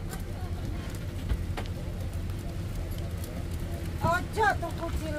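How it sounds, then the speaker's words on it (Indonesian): Rain falling during a campervan trip around Indonesia, heard as a steady, fairly loud hiss and patter throughout, with brief voices near the end. "Hujan, hujan, ayo cepet kak."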